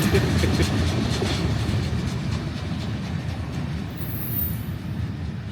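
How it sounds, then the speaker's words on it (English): An Amtrak passenger train rolls past close by, a loud steady rumble of railcars and wheels on track with faint squeal, the sound holding level before easing slightly toward the end. "I'm trying to figure out what Amtrak that was."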